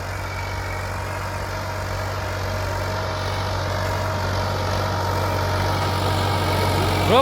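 Preet 4549 tractor engine pulling a tiller through a field, a steady loud low drone with a constant rumble that holds level and rises slightly toward the end, no voices.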